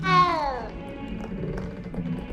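A cat meows once in Hogwarts Legacy, a bright falling cry at the start, followed by quieter game ambience and faint talk underneath.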